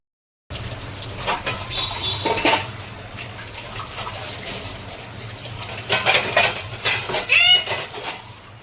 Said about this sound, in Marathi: आता एवढे भांडे घासून झालेत माझे